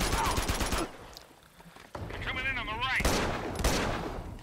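Rapid enemy gunfire in Uncharted 2: Among Thieves, loud bursts of shots at the start and again near the end, with a brief lull in between and a tonal warbling sound in the middle.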